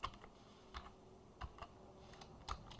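Quiet keystrokes on a computer keyboard, a few scattered taps and small clusters in an irregular rhythm, faint and close with no talking.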